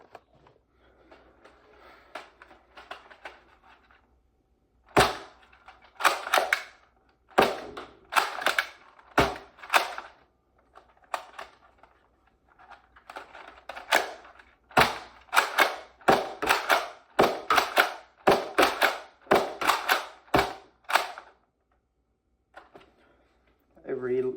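A Nerf N-Series Strike Back shotgun-style blaster fires on a range, giving sharp, snappy pops, first singly and then in quick bursts, with handling clicks and faint speech between the shots.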